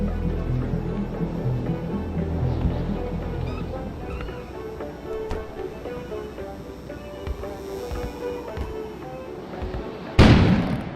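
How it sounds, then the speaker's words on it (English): An explosion goes off outside in the video game Kona, a sudden loud broadband boom near the end that cuts through a steady bed of low ambient sound and music. "An explosion suddenly occurred outside."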